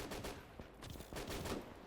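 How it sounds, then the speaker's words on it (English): Soviet border defense battle in the Gates of Hell video game, with faint, distant machine gun bursts and mortar fire in quick, rattling succession. "Supported by mortar and machine gun fire."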